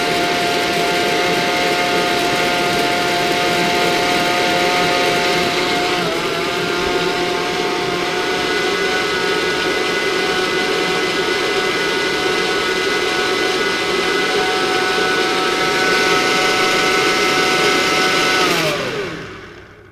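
A countertop blender purees carrot and cumin soup with a loud, steady whir that holds for about eighteen seconds, then winds down as the motor stops.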